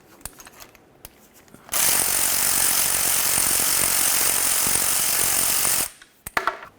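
A powered ratchet buzzes loudly and steadily for about four seconds while removing the oil pan bolts on a Scion xB, with quiet clicks and metal handling noises before and after it runs.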